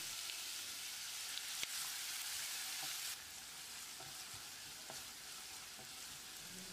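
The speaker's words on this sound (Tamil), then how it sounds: "வெங்காயத்தை பொன்னிறமாக வதக்கிடலாம்" Chopped onions sizzle and crackle in hot oil with curry leaves, a steady frying hiss that drops slightly partway through, with occasional clicks of stirring.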